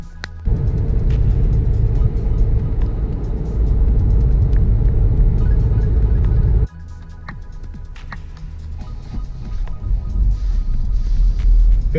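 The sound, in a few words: Volkswagen Alltrack car driving, engine and road noise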